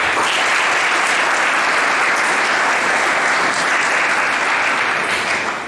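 A large audience gives loud, sustained applause for young researchers at a conference, a dense, unbroken roar of clapping that holds steady throughout.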